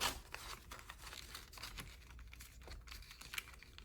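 Paper cash bills rustle and crinkle as they are stuffed into a budget envelope, soft close-up shuffling and light crackling, quiet and without speech.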